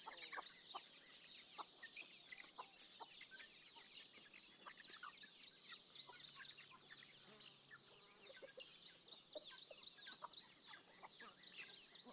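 Domestic chickens and young chicks kept as backyard village poultry cluck and peep nearby, with a steady mix of short clucks and repeated high cheeping calls of the chicks over a constant outdoor background, no talking.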